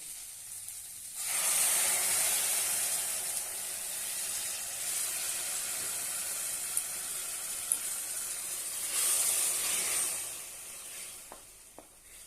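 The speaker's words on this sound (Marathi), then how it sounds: "आता आपण यामध्ये गरम पाणी घालूया" Hot water poured into a pan of sizzling spicy potato curry bursts into a loud steamy hiss that holds steady for several seconds, fades, then flares briefly again, with a few faint utensil clicks.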